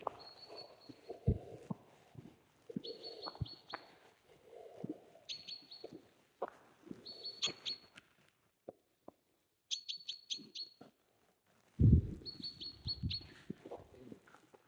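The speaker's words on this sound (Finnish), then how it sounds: "Linnut laulaa." Birds sing along a forest hiking trail, with repeated high chirping phrases coming and going among quiet gaps, plus occasional low thumps and handling noise.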